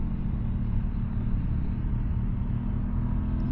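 An Aprilia Tuono 660 motorcycle engine hums at a steady 5,500 RPM in second gear at 40 mph, a deep, even rumble with road and wind noise from the rider's position.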